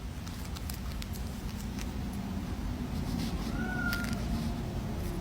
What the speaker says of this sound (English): cat wants in.